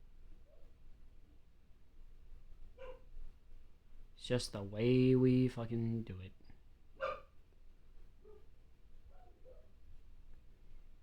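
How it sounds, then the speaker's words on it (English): A dog gives a sharp, drawn-out bark or yelp mixed into a quiet music track, with a voice heard nearby. "There's gonna be dogs barking."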